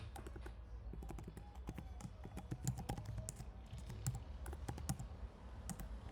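An email address is typed on a computer keyboard in a steady run of quiet, close key clicks with uneven rhythm, some keys struck harder than others, with no voices.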